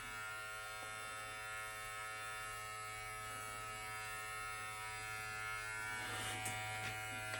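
Electric beard clippers fitted with a number 12 guard buzz in a steady, even hum close by, with a brief rise in pitch and texture near the end as they work through the beard; nobody speaks.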